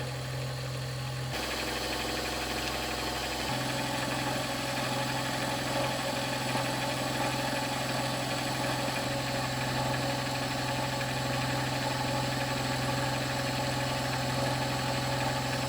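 A metal lathe chamfers the edges of a steel face, giving a continuous, even machine drone that shifts pitch slightly early on and then runs steady and fairly loud throughout.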